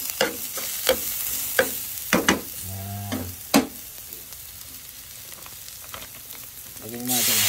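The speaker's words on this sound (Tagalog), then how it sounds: "Pag medyo maluto-luto na itong bawang sibuyas, lagyan nitong adobo flakes." Adobo flakes sizzle in a pan with garlic and onion, a steady broadband frying hiss punctuated by sharp scraping stirs, with a brief voice partway through and louder sizzle at the end.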